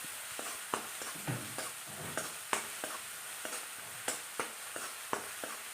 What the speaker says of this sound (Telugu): దంచుకున్న అల్లం ఎల్లిగడ్డ పేస్ట్ ఇప్పుడు ఇది ఈ ఆనియన్స్ దాంట్లో వేసి ఒకసారి మళ్ళీ మిక్స్ చేస్తున్నా